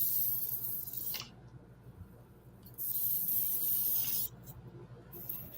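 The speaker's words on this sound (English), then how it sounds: "just come along with the raw umber, and then just spray the side of the car" Raw umber paint sprayed along the side and top of a model freight car for light weathering, heard as soft hissing bursts of airbrush spray, two louder passes separated by quieter stretches, close and alone.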